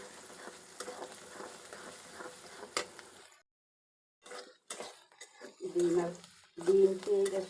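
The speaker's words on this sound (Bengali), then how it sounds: "ডিম পেঁয়াজ একসাথে ভাজা হয়ে গেছে" Egg and onion fry together in a pan while being stirred, a low crackling sizzle broken by a brief pause, with a voice speaking over the cooking.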